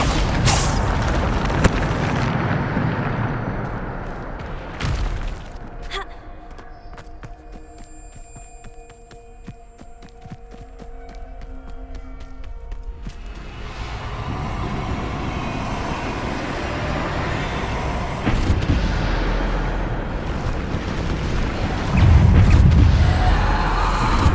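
Bombarda spell explosions in the video game Hogwarts Legacy: a loud booming blast opens the passage, another heavy burst lands near five seconds, and rumbling combat noise with further impacts fills the second half, with no talking.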